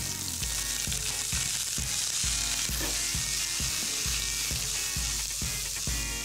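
Sliced onions sizzle hard in a hot pan with mustard seeds, a continuous bright hiss cut by a regular rhythm of scraping strokes from a stirring utensil; no voices.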